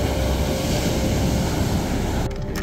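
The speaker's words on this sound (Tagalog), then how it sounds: "Malalakas yung alon ngayon, no?" Strong ocean waves surging at night by a Fujairah camping site, a dense continuous loud wash of surf filling the whole stretch.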